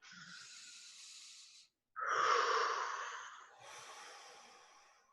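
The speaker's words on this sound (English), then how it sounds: "Big breath." A deep breath in and out, close and soft, with a long hissing intake followed by a slower, airy exhale and no speech.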